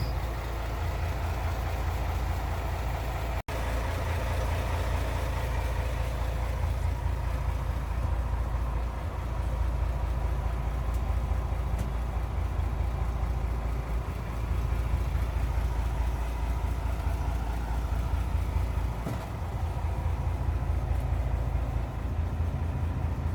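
A fishing boat engine, cooled by a seawater pump, idles steadily throughout, a low continuous rumble with a faint mechanical hum, running alone without speech.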